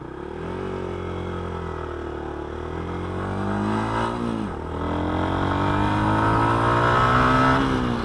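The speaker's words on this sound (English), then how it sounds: "So it does struggle a bit off the mark acceleration with no revs" A Yamaha R15 motorcycle pulls away from a standstill with almost no revs, its engine droning low and strained before the pitch climbs gradually and steadily, loud and close, with a brief dip midway as it keeps accelerating.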